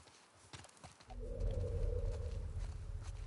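Horse hooves clopping in The Last of Us Part 2, a steady low rhythmic plodding over a rumbling ambient bed, starting after a brief quieter lead-in and continuing at moderate loudness.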